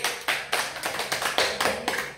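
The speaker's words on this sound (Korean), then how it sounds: "하나님께 영광의 박수!" A church congregation clapping together in praise, the claps landing in a steady, fairly quick rhythm of sharp, bright bursts, close and moderately loud with no voices over them.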